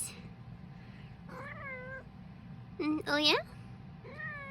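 A cat meows several times, drawn-out rising and falling calls close by, the loudest a pair near the end, with a person briefly talking over a low steady background hum.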